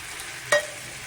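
Boiled mung dal being stirred and sautéed in a pan, a single short scrape and sizzle standing out against a faint background hiss.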